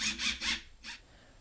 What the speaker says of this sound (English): We're going to secure one of the wood screws right into the stud.